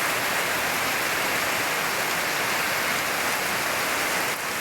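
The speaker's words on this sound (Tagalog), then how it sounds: "malakas yung tubig sa ulan." Heavy rain pouring down steadily over a housing area, a loud, continuous hiss of water on surfaces with no pauses and no voices.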